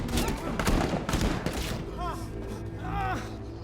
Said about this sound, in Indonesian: Hingga terjadi adu tembak yang menyebabkan sebagian anak buah Basilio tewas